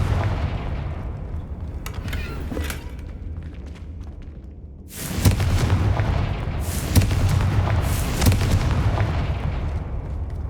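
Confringo fire-blast spell explosions in Hogwarts Legacy, a dense run of loud, close booms and crackling blasts with a sharp surge midway, continuous with no pauses and no talking.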